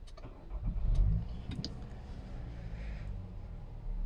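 Nissan X-Trail engine starting up again after being switched off: a quick cranking burst that catches, then settles into a soft, steady idle.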